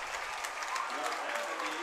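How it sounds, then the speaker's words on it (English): Crowd at a high school football game cheering and applauding in a steady, full roar after a catch, while an announcer talks over it. "And the crowd comes up."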